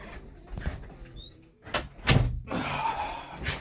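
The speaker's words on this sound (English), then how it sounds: "Let me close the door." A room door swings shut with a soft thunk and brief rattle, followed by light indoor shuffling and movement noise, close by and moderately loud, with no talking.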